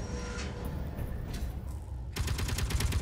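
Gunfire in the space sandbox game Space Engineers, a rapid automatic burst of evenly spaced shots arriving after a stretch of low mechanical background noise.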